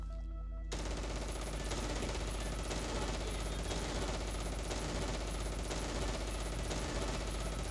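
Sustained heavy gunfire from a WWII Stalingrad battle in the Close Combat Cross of Iron video game, with dense rattling machine-gun bursts and rifle shots rolling loud and continuous after a brief quiet start.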